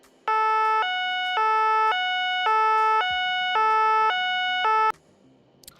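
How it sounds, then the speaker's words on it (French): A priority emergency vehicle's two-tone siren alternating steadily between a high and a low pitch, loud and close, about four full cycles before cutting off abruptly. "Les véhicules d'intérêt général prioritaire ont des sirènes à 2 temps."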